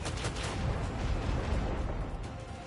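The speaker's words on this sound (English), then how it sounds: "Macro cannons, open fire!" A volley of macro cannons fires in the Warhammer 40K Rogue Trader video game, sounding as a rapid string of heavy booming blasts and rumbling detonations at moderate volume with no speech.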